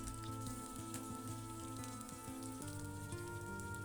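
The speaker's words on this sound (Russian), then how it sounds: "обжариваем нашу говядину до золотистого цвета" Beef pieces browning in a hot pan for a salad, giving off a steady, dense sizzle with crackling pops, continuous and fairly close with no talking.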